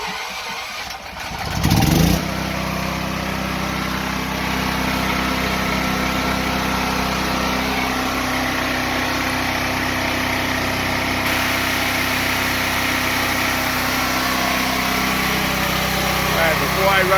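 A generator engine converted to run on propane, running steadily after a brief startup burst, with a loud, constant droning hum close by for the whole stretch and no talking.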